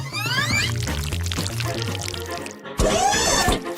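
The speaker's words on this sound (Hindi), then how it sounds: "हम पेस्ट को टोस्ट पर डालेंगे।" Paste is poured onto toast, giving a steady wet pouring and trickling sound up close. The flow breaks off briefly, then comes back as a fuller gush.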